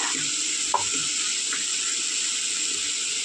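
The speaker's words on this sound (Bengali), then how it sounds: "এবার আর ঢাকনা দেবো না, এমনি ভেজে নেবো খুব ভালো করে" Vegetables frying uncovered in a pan, a steady bright sizzle with a few soft scraping strokes as they are stirred, close and continuous.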